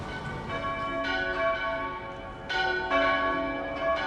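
Church bells peal in overlapping, resonant strikes, several tones ringing out and sustaining, loud and steady with no voices over them.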